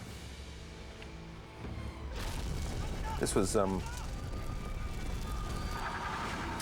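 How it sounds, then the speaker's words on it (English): A massive staged explosion on the set of Xena: Warrior Princess, a sudden broad roaring blast that swells after a quiet start and keeps rumbling steadily beneath someone talking. "wanted to do this massive explosion, and did."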